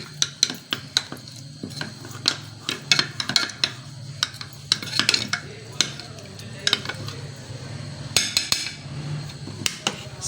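A spoon stirs cornflour into a batter: rapid, uneven clinks and scrapes against a bowl, close and continuous over a low background hum.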